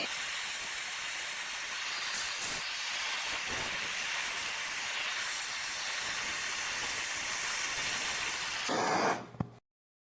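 Steady broadband hiss from a gas torch heating aluminum for Harbor Freight Alumiweld rod welding, continuous and close for about nine seconds before cutting off abruptly into silence.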